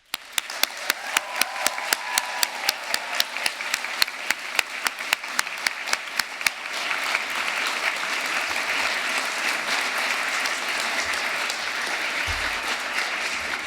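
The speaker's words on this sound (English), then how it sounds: "give them an enormous cheer and round of applause" An audience at a winter graduation ceremony claps and cheers for the graduates' supporters. Loud, sharp individual claps come first, then give way to a dense, sustained wash of applause.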